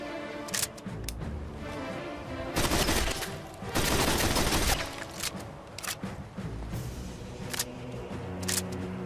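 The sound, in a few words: Mark 41 Gyrojet heavy machine gun firing, Fallout 4 video game mod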